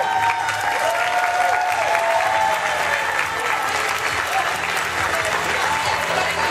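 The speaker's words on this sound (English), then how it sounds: "Give it up for all the amazing. Yeah, clap for all of them." An audience applauds cosplay walk-ons at a GX3 convention, with steady, dense clapping throughout and voices and cheers mixed in from the crowd.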